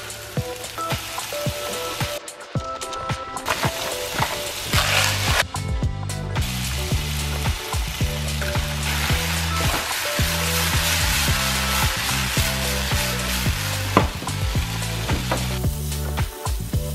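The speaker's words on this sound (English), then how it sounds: "this on the stovetop and I'm gonna put garlic in it, minced garlic" Minced garlic frying in a pan on a stovetop, a dense continuous sizzle and crackle that stays loud and close throughout, with occasional stirring and clatter mixed in.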